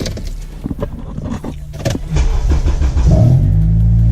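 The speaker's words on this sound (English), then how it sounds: "Turn the car on." Clicks and rattles followed by a car engine cranking and catching, then settling into a steady low idle; loud and close.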